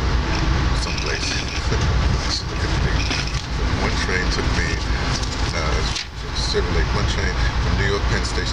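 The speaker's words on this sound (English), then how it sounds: "But I'm on a train going to St. Louis." On board a passenger train bound for St. Louis, a constant loud interior rumble and rattle of the cars runs throughout, with a voice speaking over the steady rolling noise.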